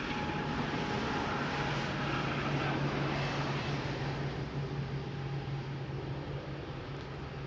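Air Europa airliner landing, heard as a steady, moderately loud engine rush with a low droning hum throughout, no voices present.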